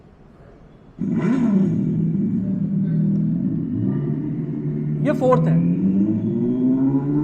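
A Revolt electric motorcycle's simulated engine sound: a loud, deep engine-like rumble kicks in abruptly and holds steady, rising slightly in pitch, while someone speaks briefly over it.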